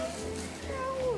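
A male cat recently neutered meows in a drawn-out, falling call, heard close by over a steady background with a voice talking around it.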